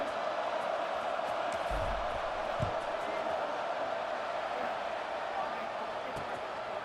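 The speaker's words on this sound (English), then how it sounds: "They're set to kick it off, and this crowd now ready to get behind them." A broad, steady roar of a stadium crowd in EA Sports College Football 26 fills the air before a kickoff, with a few dull thumps and game commentary heard over it.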